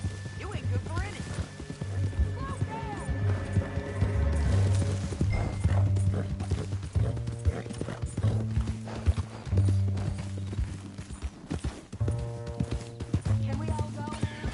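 Horse hooves clip-clopping steadily in the Red Dead Redemption 2 game, with a captive rider tied on the horse, heard under continuous dialogue between several voices and occasional neighing.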